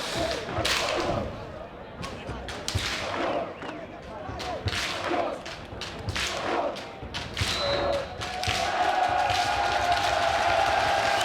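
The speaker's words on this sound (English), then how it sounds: "There's the pull, the roar of the crowd." A crowd roars at a U-24 world championship bronze medal match between Italy and Canada, a loud sustained cheer broken by sharp thumps and claps, with voices mixed into the noise.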